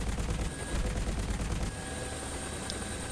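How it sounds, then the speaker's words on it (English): AH-64A Apache gunner's cannon firing in War Thunder: rapid, dense bursts of automatic gunfire, close and loud for under two seconds, then a quieter lingering rumble with scattered shots. "And now I can hear the guns too."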